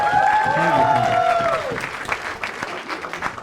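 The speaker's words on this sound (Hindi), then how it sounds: "तालियां" Audience applause on a talent-show stage, a crowd clapping that carries under loud overlapping voices at first and then thins into scattered claps.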